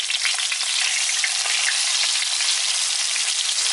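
Masala-coated sankara fish fries in a kadai with a dense, even sizzle that stays loud and steady throughout, with no voices over it.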